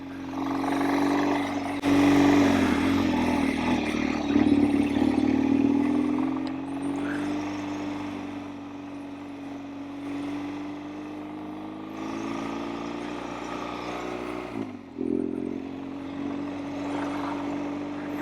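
A BMW R1200GS motorcycle is being ridden off-road, with a steady, droning engine note close by that swells and eases as the throttle changes, and a brief dip near the end, with no talk.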